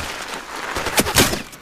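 Gunfire in a KnD versus HK video game match: a few sharp shots crack over a steady background hiss. The loudest bursts land near the end.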